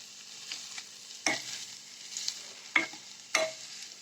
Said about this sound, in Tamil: இந்த மாதிரி மசிச்சுக்கோங்க.